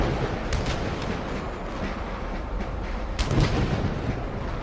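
Naval cannon gun salute fired for the President during a fleet review at sea, heard as a dense continuous roar of distant booms under heavy wind and ambient noise.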